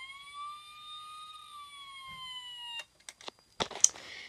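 Playmobil toy fire engine sounding its electronic siren: thin, steady wailing tones that sweep slightly, fairly faint and close, then stop and give way to a few sharp plastic clicks and handling knocks.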